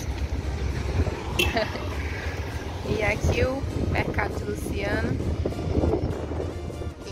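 Strong wind buffets the microphone outdoors on a high hillside by a petrol station and market, a steady roar throughout, while a person talks over it.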